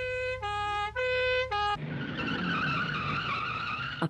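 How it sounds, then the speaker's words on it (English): A fire engine's tyres squeal sharply to a halt, with a long, loud skidding screech after a wailing siren-like tone sequence, ending in a brief thud. "A passing fire engine squealed to a halt."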